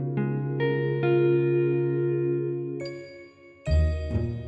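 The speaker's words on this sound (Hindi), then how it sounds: "कॉल है।" A phone ringtone for an incoming call sounds in a Pakistani TV comedy drama, a series of bright chiming notes with an echoing tail, moderately loud and with no talk.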